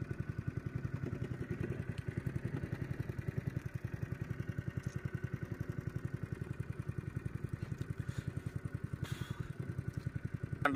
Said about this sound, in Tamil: ஓகே, போட் வந்து இங்க இருந்து யூட்டன் ஆயாச்சு